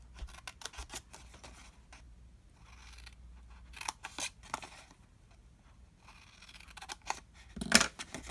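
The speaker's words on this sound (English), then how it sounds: "now for these bottoms, you can just simply cut right up the score line" Scissors cut up the score line of a paper bag project, a series of close crisp snips and crunchy paper slices in uneven bursts, with a louder handling clack near the end.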